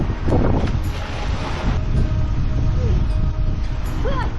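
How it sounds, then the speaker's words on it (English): Strong wind buffets the microphone outdoors on a lake during a kayaking trip, a loud continuous roar with gusty rumble and water sounds beneath, and no talking. "It's a little windy out here."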